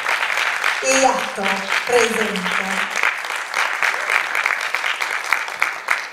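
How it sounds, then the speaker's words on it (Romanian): Sustained audience applause at a children's charity anniversary show, greeting a singer as she comes on stage. It begins under a host's brief announcement and music, then continues as steady, dense clapping. "Aplauze!"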